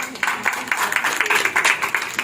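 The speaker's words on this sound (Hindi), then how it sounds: "जोरदार तालियों से उनका स्वागत।" Loud applause from a seated audience welcoming the chief guest, Dr. R.K. Arya, at a community programme, a steady dense patter of many hands with sharp peaks, running throughout without pause.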